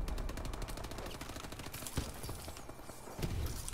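Rapid automatic gunfire rattles steadily in Call of Duty Advanced Warfare, a close and continuous string of shots with a few heavier bangs near the end and no talking.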